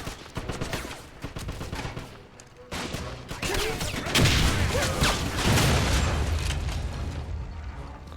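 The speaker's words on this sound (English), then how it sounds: "Grenade out!" A grenade blast and gunfire in Wolfenstein on Xbox 360: repeated shots and rifle cracks, then a heavier booming burst midway that rumbles on under continuing fire, moderately loud with faint voices.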